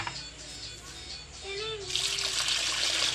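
Running water gushes from a tap into a cooking pot, growing louder and fuller toward the end as it pours steadily nearby.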